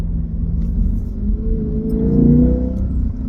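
A Lexus IS500 fitted with an Apex'i N1 exhaust rumbles deeply as it downshifts, a low engine note swelling briefly with a rev rise, heard close from inside the car.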